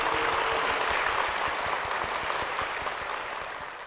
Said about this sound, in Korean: 이종대 권사님 박수로 모시겠습니다